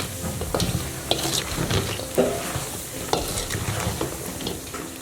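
Soft Guyanese mithai being mixed in sugar syrup and powdered sugar in a pot, a busy close rustle of stirring with scattered clinks and scrapes against the pan, no talking.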